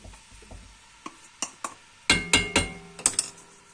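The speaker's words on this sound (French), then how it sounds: "on va bien racler le fond pour ne pas en laisser dans la marmite" A spoon scrapes and knocks against the bottom of a cooking pot of browning vegetables for a bolognese sauce. It makes a close series of irregular clinks and scrapes that grow louder and denser toward the end.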